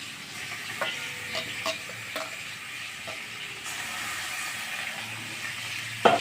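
Katla fish pieces fry in hot oil with a soft, steady sizzle, fairly quiet and close, broken by a few light clicks and a sharper clatter near the end.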